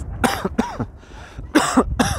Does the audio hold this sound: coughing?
yes